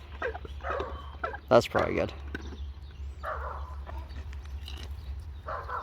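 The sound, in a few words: dogs barking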